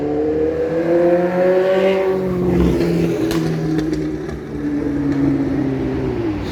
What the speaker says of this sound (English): That motorcycle is loud.